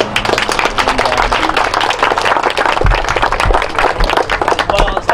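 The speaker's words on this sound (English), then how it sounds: "So big round of applause for her on that." A small crowd at an outdoor ribbon-cutting for a home giveaway claps in a dense, steady burst that lasts throughout, close and fairly loud.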